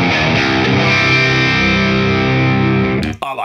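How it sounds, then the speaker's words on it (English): Electric guitar played through a ToneX Mesa Boogie amp model, a loud distorted chord ringing out and sustaining for about three seconds before being cut off with a short scrape. "I really like the Mesa Boogie Luke Boogie sound"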